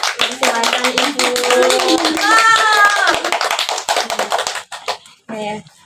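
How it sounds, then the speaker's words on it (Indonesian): Audience clapping to welcome a guest, Bu Ika, onto an Indonesian podcast set; a busy run of hand claps under overlapping voices, fading out near the end. "Tepuk tangan."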